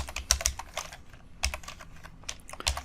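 Close, crisp typing on a computer keyboard, in short bursts of quick keystrokes separated by brief pauses, with no voices.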